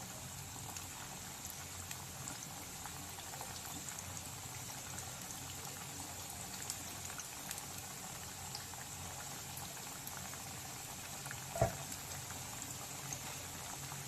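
Pithe rice cakes fry in hot oil, a soft, steady bubbling sizzle that carries on evenly with one sharp tap partway through, no voices.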